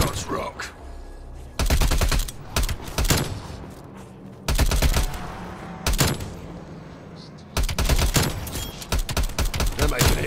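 Gunfire from Call of Duty: Black Ops Cold War arrives as loud, rapid bursts of automatic fire separated by short pauses filled with quieter in-game sounds.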